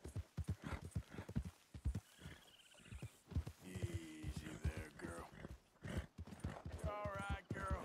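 A horse's hooves clip-clop steadily in Red Dead Redemption 2, a quick rhythmic gait heard close, with a whinny and someone talking over the hoofbeats.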